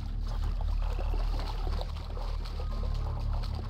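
Wading across a river in The Hunter Classic hunting game, with a steady close splashing and pouring of water over a low continuous rumble, loud and even, with no talking.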